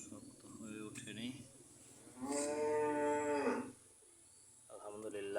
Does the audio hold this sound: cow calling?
yes